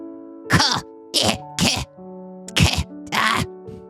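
A character in the horror video game MAMIYA coughs in five harsh, separate bursts over steady low music, the fits growing rough and strained with short gaps between them.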